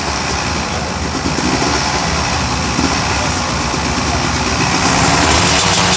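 A two-stroke scooter idles steadily after a kick start on a busy Haitian street. Its buzzy engine runs continuously at close range, mixed with traffic and street noise and some voices.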